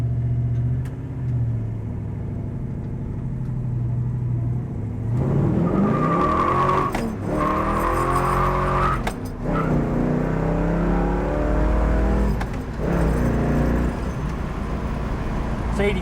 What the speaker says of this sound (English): This is a muscle car.